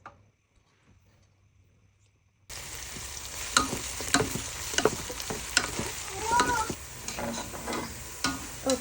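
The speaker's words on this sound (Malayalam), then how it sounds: "ഇത് നമുക്ക് ഫ്രൈ ചെയ്തെടുക്കണം." Two sliced onions fry in oil in a pan for turkey biryani, a steady sizzle and crackle that starts abruptly after a quiet stretch, with stirring clicks and scrapes of a utensil against the pan.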